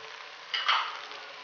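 Spices and minced meat roasting in a pan for keema kachnar, a soft steady sizzle that swells briefly louder midway before settling back.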